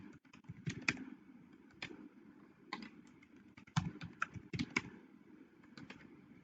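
Password keyed in on a computer keyboard: irregular clusters of crisp key clicks with short pauses between bursts, close and fairly quiet, no speech.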